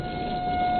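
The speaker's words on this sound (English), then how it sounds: "the tornado sirens are going off here in Beatrice, Nebraska" Tornado sirens wail over Beatrice, Nebraska during an evening thunderstorm, heard as a brief, steady, sustained tone with no talk over it.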